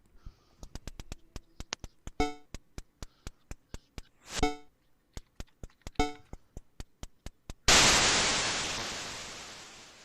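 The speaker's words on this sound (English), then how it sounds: "Jumping sound is more kind of FM synthesis, white noise-ish." Retro CoCo Pi video game sound effects: rapid ticking blips and short bursts, then a loud white-noise FM-synthesis jumping sound that fades out, alone with no voices.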